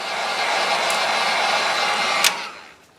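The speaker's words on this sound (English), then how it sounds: "I wanted to dry that good with the heat gun before we took the wrap off" A heat gun drying fresh paint on a squarebill crankbait lure, a steady close-up blowing roar that holds for over two seconds and then shuts off.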